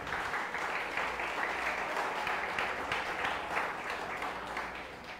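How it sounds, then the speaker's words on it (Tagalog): A church congregation applauds together for Jesus during a Sunday morning service, a steady, dense wash of clapping that stays even and fairly loud for the full stretch without a break. "Yun pong the best na palakpak para kay Jesus."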